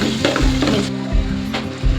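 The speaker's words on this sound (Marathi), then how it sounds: "जिरे, मोहरी, कांदा, लसूण टाकलेला आहे फोडणीमध्ये." Onion and garlic fry in a cumin and mustard seed tempering for misal, giving a steady close sizzle with scraping stirring strokes throughout.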